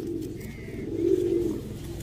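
Pigeons cooing in a loft where a hen sits on eggs, a low steady throaty coo that swells louder midway, close and alone.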